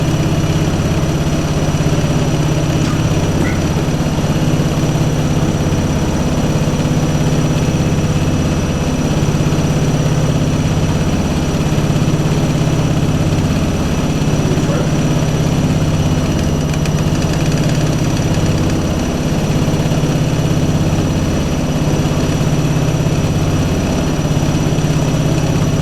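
A Hoover washing machine spins at 1200 rpm, giving a steady, loud low hum and drone with a faint vibrating rattle from trembling panels that runs unbroken throughout.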